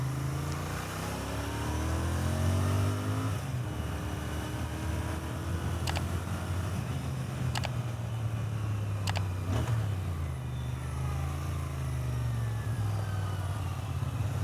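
A Royal Enfield Interceptor 650 parallel-twin motorcycle engine hums steadily while riding, with a low rumble and gear-shift changes in pitch, loud and continuous throughout.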